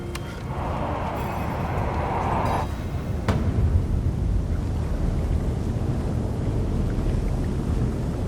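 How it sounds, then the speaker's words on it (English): In a Diablo IV cutscene, wind picks up into a loud, steady, rushing roar. A higher hiss fades out partway through. "The wind is picking up."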